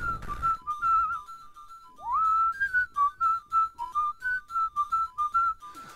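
Whistled melody in the Jazz Jackrabbit video game, a clear bright tune of short repeated notes with a rising slide, loud and close over faint rhythmic background thumps.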